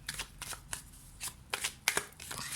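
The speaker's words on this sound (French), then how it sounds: "je sépare justement les arcanes majeurs pour voir votre énergie dominante" Tarot cards are separated and handled, producing crisp, close riffles and snaps in irregular bursts, with quiet gaps between them.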